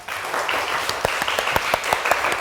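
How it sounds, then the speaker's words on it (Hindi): A studio audience at a Ramzan special TV transmission claps ahead of a break, with sharp individual claps standing out from a steady wash of applause at moderate loudness. "बहुत सी तालियां होनी चाहिए"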